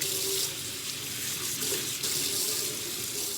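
Tap water running steadily into a sink while romaine hearts are rinsed for a Caesar salad, a continuous close splashing rush with slight shifts as the leaves move under the stream, with no talking.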